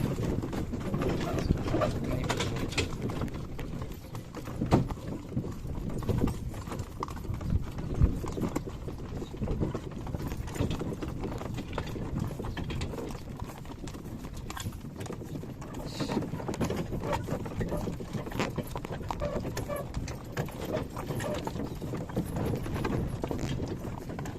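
Horse hooves clip-clop in a steady rhythm on a hard surface while horses haul boards, continuing throughout, with faint outdoor background and occasional distant voices.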